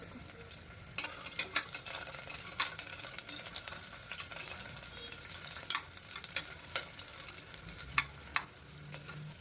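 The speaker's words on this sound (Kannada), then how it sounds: "ಸೊ ಇವಾಗ ಈರುಳ್ಳಿ ಮತ್ತು ಬೆಳ್ಳುಳ್ಳಿ ಎಲ್ಲ ಚೆನ್ನಾಗಿ ಫ್ರೈ ಆಗಿದೆ" Onion and garlic frying in oil for a country mutton sambar, a quiet but steady sizzle with repeated soft stirring scrapes and small clicks, no voices.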